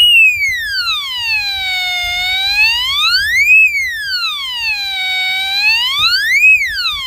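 A Blix Queaky squeaky toy wails like a police siren, its clear piercing tone sweeping down and back up in two slow cycles, close and loud over faint background rustle.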